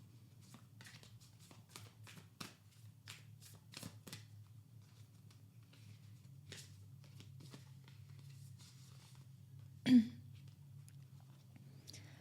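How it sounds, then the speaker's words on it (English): Moonology oracle cards shuffled in a quiet room, with soft, rapid riffling clusters at the start and sparse flicks and taps afterward, close and fairly faint. "Now let's get some Moonology cards."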